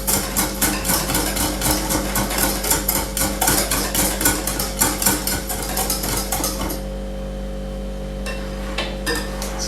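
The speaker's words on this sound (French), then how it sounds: "En plus, ça devient de plus en plus épais, donc c'est de plus en plus dur à remuer." A thickening mixture of hot honey and egg whites being stirred, with steady rhythmic scraping and knocking of a utensil against the bowl for several seconds over a constant hum, then stopping, close and fairly loud.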